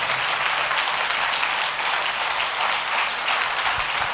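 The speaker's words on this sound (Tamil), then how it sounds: "நல்ல கைத்தட்டி கர்த்தரை மகிமைப்படுத்துங்க பார்க்கலாம்." A congregation at an all-night church prayer meeting claps in praise. The dense, steady applause is loud and continuous throughout, with no speech over it.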